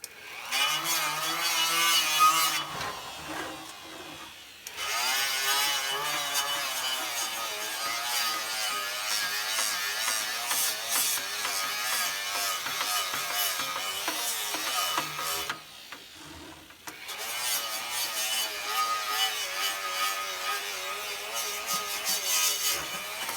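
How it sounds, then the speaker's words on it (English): A fiber wheel on a power tool grinds a brake rotor surface, producing a loud, continuous high-pitched whir that drops out briefly twice and then resumes. "and now for the fiber wheel."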